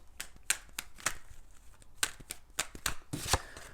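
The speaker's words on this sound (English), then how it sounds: "let's do 4 shuffles and really pull the energy" Close, crisp card shuffling: quick papery riffles and sharp taps arrive in irregular bursts, with no talking.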